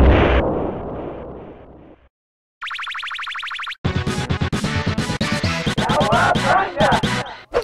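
Baxter blows up in the Teenage Mutant Ninja Turtles IV video game, heard as loud, crunchy retro explosion bursts. A quick chirping tone comes first, then a dense run of rapid blasts that ends in rattling pops.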